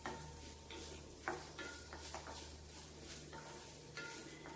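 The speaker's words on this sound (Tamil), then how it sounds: "இன்னும் கொஞ்சம் நேரம் வறுத்துக்கலாம்." Coconut roasts in a pan for coriander chutney, stirred with a steady faint sizzle and soft scraping strokes, recorded quietly and close.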